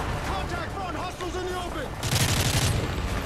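Rapid game weapon fire and blasts in Call of Duty: Modern Warfare 3, a burst of crackling shots rising near the end, with a voice talking over the start.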